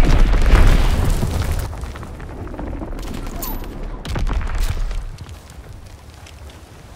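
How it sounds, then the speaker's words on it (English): Heavy booms of enemy bomb explosions in the World War II shooter Call of Duty: WWII, with rolling blasts and gunfire-like crackle, loud at the start and again midway, an in-game voice calling out over the battle. "Enemy bomb incoming! Get to cover!"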